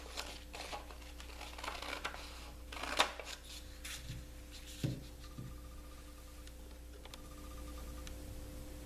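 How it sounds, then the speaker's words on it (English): Quiet snipping and rustling of paper as paper scissors cut a sewing pattern, with a few sharper clicks and crinkles over a low steady hum. "Make sure you're cutting out your pattern using paper scissors."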